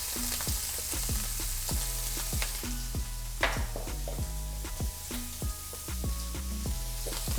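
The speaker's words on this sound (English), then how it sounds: "Here we have our shrimp, hot pan, a little bit of oil, and we don't want to cook this too long." Shrimp fry in a little oil in a hot pan with a steady, close sizzle throughout, over repeating melodic tones.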